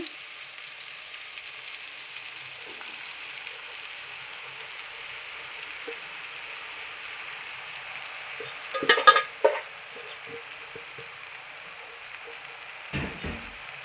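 Soaked puffed rice and green chillies fry in a pan with a steady, faint sizzle throughout, broken by a brief louder burst of clatter and hiss midway and a small knock near the end, with no talking.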